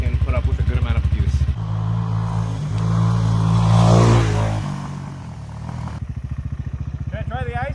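A Hawk 250 motorcycle ridden hard to test its rear wheel after a rim lock and new tube install: the engine idles with a rough putter, then revs and roars louder before settling back to a choppy idle, with a voice heard near the end.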